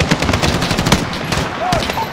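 Automatic gunfire in Call of Duty Modern Warfare during a US Embassy siege mission, with rapid bursts of shots and loud cracks close by over a dense battle din.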